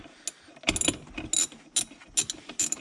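A hand ratchet loosens the parking brake adjuster in a BMW, down in the tight space by the centre console. It makes rapid bursts of close, crisp clicking in short, uneven strokes.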